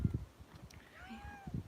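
A cat meows a couple of times in the middle, thin drawn-out calls that rise and fall, with low rustling and handling noises at the start and end, outdoors in springtime around a horse setting.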